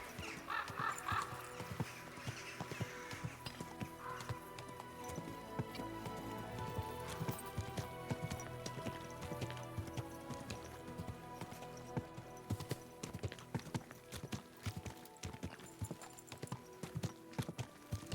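A horse in Final Fantasy XIV trotting with steady rhythmic clip-clop hoofbeats, accompanied by neighing and layered game music and ambience, moderately loud throughout.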